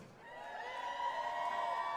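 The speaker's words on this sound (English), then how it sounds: "30 and under crowd, make some noise" A crowd at a Cincinnati Black Music Walk of Fame induction ceremony cheers and whoops in response, a moderate wash of voices swelling gradually and holding steady with no single voice standing out.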